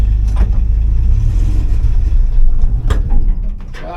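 Car engine in first gear chugging and faltering as the clutch comes out, with a rough low rumble, a few sharp knocks, then dying away near the end, heard close.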